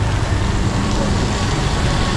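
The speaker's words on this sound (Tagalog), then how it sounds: "Nalakas lang ng ulan." Heavy rain pours in a steady, dense hiss in Lucban, loud and constant with no break or talk.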